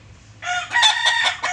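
A rooster crows nearby, one loud, clear, drawn-out call with a strained, wavering tail.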